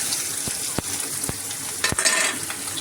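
Garlic and onion fry in hot oil with dried chilli and black cumin tempering, a loud, dense crackling sizzle broken by a few sharp utensil scrapes and clicks, close up with no voices.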